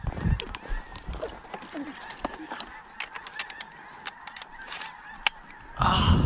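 Several geese honk repeatedly overhead during a late-season duck hunt, calls loud and near over a steady outdoor background, with a brief louder burst of noise at the end.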